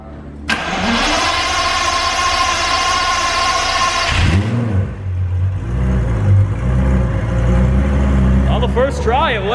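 A twin-turbo Lamborghini Gallardo V10 cranks with a whining starter, then catches and settles into a loud, deep idle with a few blips of revving, very close.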